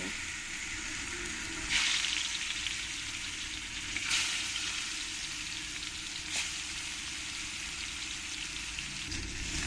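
Katla fish pieces fry in oil with a loud, continuous close sizzle that swells briefly every few seconds, as if the pieces are being moved or turned, and no voices are heard.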